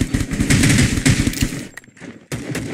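Rapid gunfire in the Rules of Survival battle royale game, a loud close burst of automatic shots for over a second, then a pause and another single crack.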